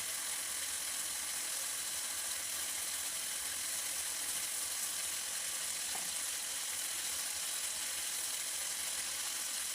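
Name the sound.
chicken meat being fried in a pan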